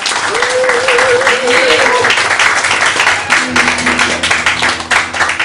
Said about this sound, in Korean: 감사와 찬양과 경배와 영광의 박수 먼저 올려드리겠습니다.